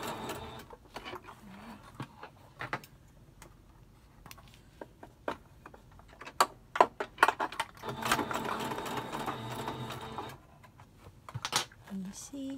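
Sewing machine stitching and briefly backstitching a fabric face mask, a short whirring run amid clicks and handling taps, fairly quiet and close.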